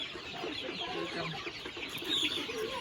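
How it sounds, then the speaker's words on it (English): Chickens at a high mountain farm in the Philippines cluck steadily and close by, a dense chorus of hens with brief higher squawks near the end. "This chicken is very good egg layer."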